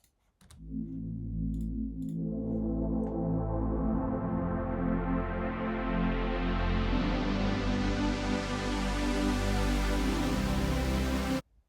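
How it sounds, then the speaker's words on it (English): A sustained white noise synth pad made in Nexus, for a trance track, swells in and holds, its hiss gradually opening up brighter over several seconds before stopping. "this white noise"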